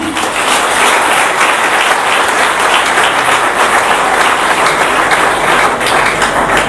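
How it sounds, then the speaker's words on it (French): Loud, sustained audience applause and cheering for Christian Bossombe, president of the Higher Council for Audiovisual and Communication, at an afternoon event in Mbandaka; dense clapping fills the whole stretch without a break. "S'il peut s'élever, on acclame très très fort pour lui."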